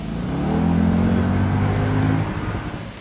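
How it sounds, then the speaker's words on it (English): A Mercedes SLK 55 AMG convertible engine roars loudly and close, a deep sustained rumble that rises and holds for about two seconds, then falls off with a rougher, crackly burble from the exhaust. "you can hear the roar from the engine, every pop and crackle from the exhaust when you downshift"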